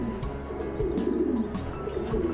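Breeding pigeons cooing in a loft, a steady low throaty coo rolling on continuously and fairly close, with faint chirps above and no talking.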